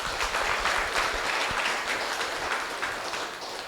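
A church congregation at a Eucharistic celebration claps together in a dense, steady patter of applause that fades slightly toward the end.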